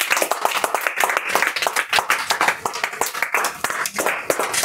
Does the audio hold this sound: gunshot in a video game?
no